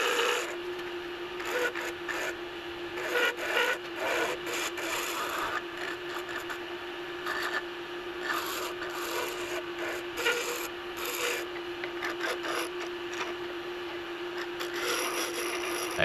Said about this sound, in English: I throw that blank in my pen jaws, I turn it away, make it a little bit shorter.